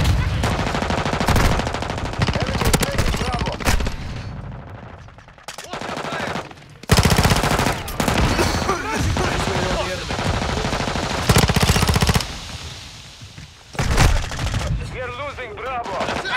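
Bursts of automatic gunfire in a first-person shooter video game, rapid loud volleys separated by short pauses, some nearer and some slightly distant, with radio-style game chatter at times.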